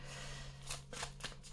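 Tarot cards are shuffled by hand in quick, soft riffling bursts, fairly close and quiet, with no talking.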